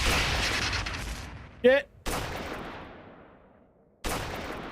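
A big gun fires in an Unreal Engine 5 game, heavy booming blasts with long decaying tails, separated by gaps, and a man briefly swears between shots.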